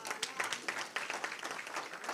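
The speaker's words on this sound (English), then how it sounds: "comrades, just give yourself a round of applause" Delegates at a SADTU Gauteng union general council clap briefly, a faint, uneven patter of individual claps heard from a distance.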